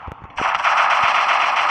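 Gunfire in a shooting video game, a few sharp shots followed by a sustained loud burst of rapid automatic fire that fills the rest of the moment, close and harsh.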